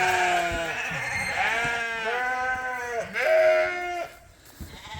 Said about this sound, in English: The sheep don't want to come in.